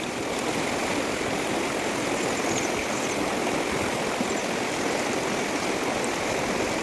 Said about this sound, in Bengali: পাথরগুলোতে সবসময় জলের স্রোত আছে